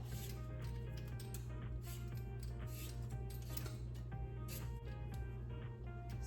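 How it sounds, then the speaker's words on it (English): Quiet, repeated scraping strokes come from a hand peeler shaving the skin off raw potatoes, each short rasp following the last in a loose steady rhythm close by, with no talking. "So you can use a peeler, peel"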